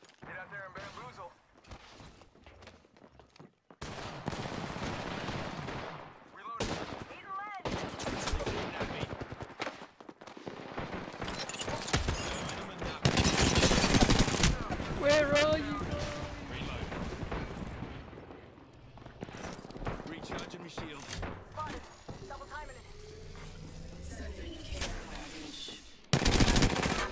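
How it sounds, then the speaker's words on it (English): Rapid bursts of gunfire from the video game Apex Legends in an Arenas match, dense volleys and sustained automatic fire mixed with explosions, loud and continuous for most of the stretch, with a player talking over it. "Shots fired, and they're hitting me."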